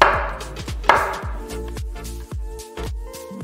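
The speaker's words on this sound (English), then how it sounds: "Just cut them into pieces." A knife chops bananas into pieces on a board, a quick series of about eight sharp, close thuds in an uneven rhythm, with no talking.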